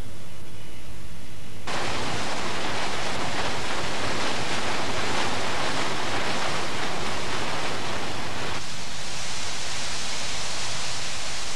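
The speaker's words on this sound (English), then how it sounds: "Inside the towers, the condenser circulating water falls like rain, and it's cooled by a current of cold air passing up the tower." Heavy, steady rush of condenser circulating water falling like rain inside a power station cooling tower, a broad roaring hiss that swells loud and constant, with quieter lead-in and tail.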